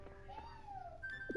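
A cat meows in the farming video game Harvest Moon: Light of Hope, a soft rising-falling mew over quiet game music and a sustained tone, ending with a brief chirp.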